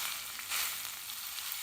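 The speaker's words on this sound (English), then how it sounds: "we're gonna wanna stir this around until the cream cheese melts all the way through" Cream cheese and sausage stirred around in a hot pan, giving a steady close-up sizzle with soft scraping and a slight swell midway; no one talks.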